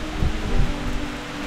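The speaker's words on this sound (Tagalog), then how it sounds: "Lakas ng ulan." Heavy rain pours down in a steady, dense wash with low rumbling surges, close and fairly loud, with no voices.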